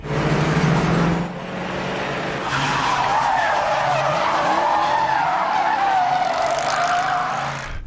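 Cars in a film stunt land after a jump and keep driving toward the 101 freeway, with loud engines and sustained tire squeal and skidding that runs almost unbroken for several seconds.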